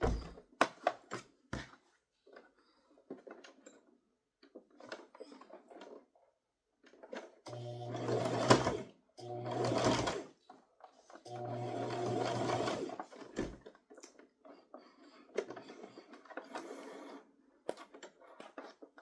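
Sewing machine top stitching a toddler crossbody purse, running in several short bursts of rapid needle chatter, close and fairly quiet, with small handling thunks between runs.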